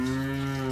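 A large HF breed cow at a cattle market gives one sustained, tonal moo, close and steady, with no one talking.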